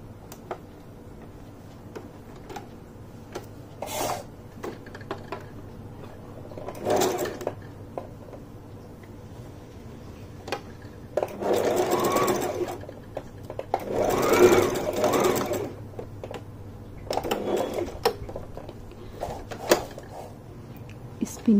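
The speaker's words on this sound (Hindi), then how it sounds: "तो अब यहाँ पर मुझे सिलाई लगा देनी है इसी तरह रखकर" A sewing machine stitches a kaftan in several separate runs of whirring, the longest in the middle, with pauses of handling between them and someone speaking over parts of it.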